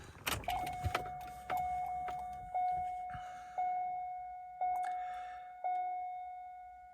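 With the key switched on in a 2001 Corvette C5, a warning chime sounds repeatedly, single tones spaced about a second apart after an initial jangle of keys, close and clear with no talk.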